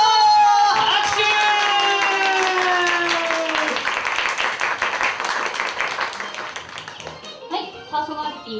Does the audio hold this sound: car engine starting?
no